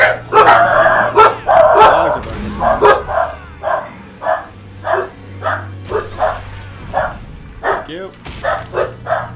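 Puppies in a room bark loudly and repeatedly, a rapid cluster of yaps followed by a series of evenly spaced single barks, with a person talking in between.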